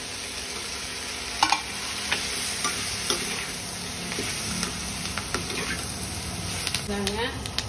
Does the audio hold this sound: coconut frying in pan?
yes